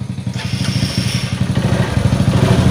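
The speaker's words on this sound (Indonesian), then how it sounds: "Motornya kita hidupin" A Honda Verza motorcycle engine started and idling during a fuel pump pressure check for a bike that stalls while riding: a close, loud, steady rapid low thumping idle with a mechanical clatter on top.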